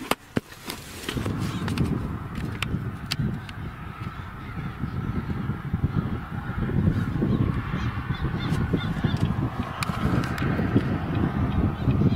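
Crows cawing over a steady background rumble of wind or traffic, scattered harsh calls at moderate distance rising now and then above the continuous noise.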